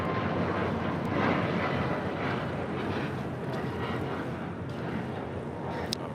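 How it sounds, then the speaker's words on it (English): Lufthansa Airbus A380 on short final for runway 24 left at LAX, arriving from Munich: a steady, broad jet roar holding at a constant distant-to-moderate level throughout, with no voices over it. "Lufthansa flight 452 coming in from Munich on the A380 Super"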